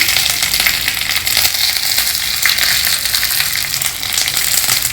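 Methi seeds, cumin seeds, a dry red chilli and curry leaves sizzle in hot tempering oil for a South Indian mango curry, a loud, steady, close frying hiss with faint crackles throughout and no voices.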